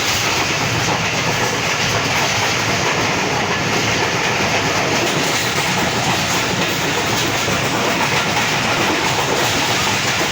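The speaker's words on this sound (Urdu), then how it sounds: "ٹرین پہ بیٹھے اور کراچی کے لیے روانہ ہو گئے۔" Train rolling along rails on a journey to Karachi, Pakistan: a steady, loud, unbroken rumble and clatter of wheels and carriages that fills the whole stretch, with a faint hiss and no talking.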